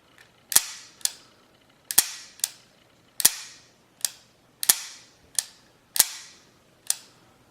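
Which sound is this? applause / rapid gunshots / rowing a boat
rapid gunshots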